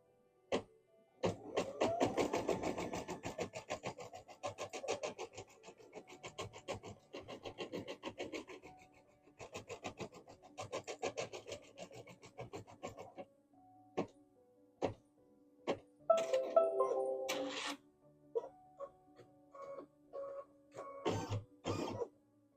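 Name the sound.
embroidery machine stitching a design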